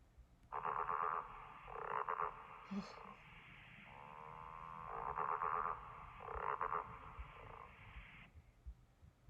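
A frog croaks in long, buzzy, pulsing calls, several bursts in a row, clear against a quiet background.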